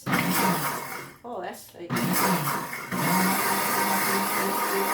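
A Pampered Chef Deluxe Cooking Blender pulses garlic for pesto: loud whirring motor bursts with short breaks between them, while a person talks over the noise.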